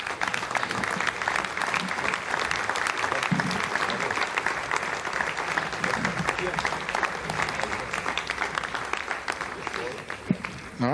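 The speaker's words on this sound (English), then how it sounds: "you heard the applause and you see the smiles" A room of staff at Ariane 5 launch control breaks into sustained applause after satellite separation, steady dense clapping that runs the whole stretch, with voices and cheers mixed in.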